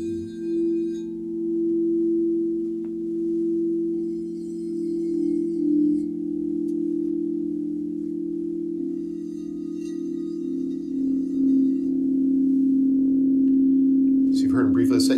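Crystal Tones set of seven crystal singing bowls sounding a sustained, steady ringing tone that holds and swells slightly throughout, with faint clinks near the end.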